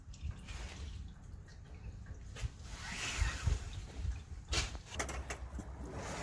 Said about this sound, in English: The oil still dripping? And it's still dripping.